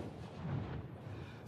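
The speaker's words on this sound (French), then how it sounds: "Les 21 coups de canon aux Invalides." A ceremonial 21-gun cannon salute at Les Invalides in Paris, one deep, booming report rolling out and decaying over a broadcast background.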